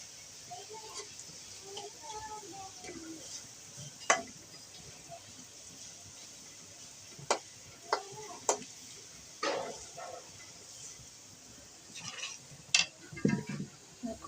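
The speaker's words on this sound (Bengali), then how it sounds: "পেঁয়াজ ভাজতেছি, বেরেস্তা করতেছি" Onion and garlic frying in oil for a beef nehari tempering, a soft faint sizzle under a quiet room, broken by scattered utensil clicks and scrapes against the pan.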